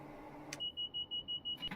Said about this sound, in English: And there you go again. There's the alarm.